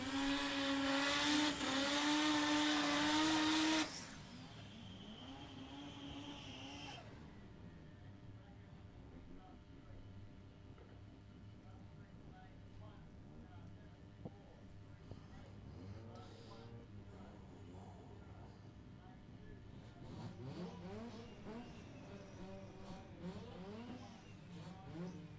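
Rotary-class drag cars, including an RX-7, launching at Palmyra Dragway and struggling for traction: a loud engine roar for the first few seconds drops to distant revving and wheelspin under ongoing announcer commentary.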